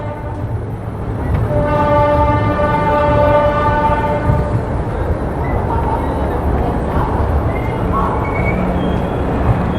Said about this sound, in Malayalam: മൂടൽമഞ്ഞിനെ വകവയ്ക്കാതെ നമ്മുടെ ട്രെയിൻ മുന്നോട്ട് കുതിച്ചുകൊണ്ടിരിക്കുകയാണ്